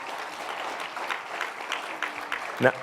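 A crowd applauding at a distance at a high school graduation ceremony on a field, steady clapping that carries on throughout, moderately loud and without a break.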